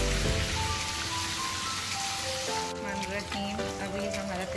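Chicken tikka frying in hot oil in a pan, a steady crackling sizzle with faint tonal background music running throughout.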